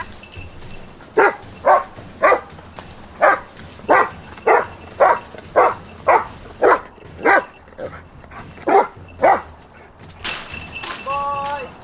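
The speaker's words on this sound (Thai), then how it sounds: "เห่าของในที่นี้คือการฝึกแจ้งเตือนให้แฮนเลอร์เนี่ยเขารู้ว่าตร งเนี้ยมีจุดต้องสงสัย" A K9 rescue dog trained to alert its handler barks about a dozen times in a steady, evenly spaced rhythm, close and loud, then gives a few higher yips and whines over faint background noise.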